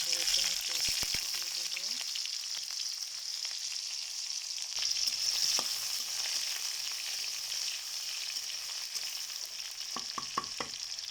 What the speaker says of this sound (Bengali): এই তো আমার পেঁয়াজ ভাজিটা হয়ে এসেছে।